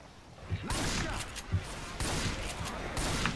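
Rapid bursts of Left 4 Dead 2 gunfire crackle in quick succession, loud and close, with a continuous busy background of shots.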